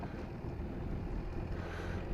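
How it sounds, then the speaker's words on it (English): Steady wind buffeting a microphone on a beach in North Uist, Outer Hebrides, a continuous low roar with gusts and no voices. "it's quite windy"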